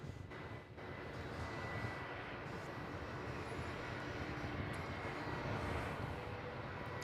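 A Scoot airliner lands on runway 16 at Melbourne Airport at night, its engines a steady, continuous broadband roar that stays loud throughout with no talk over it.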